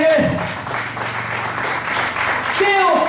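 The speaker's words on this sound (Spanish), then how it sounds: "Denle un aplauso al Rey de Reyes" Church congregation applauding, a steady wash of clapping hands filling the room under a preacher's raised voice.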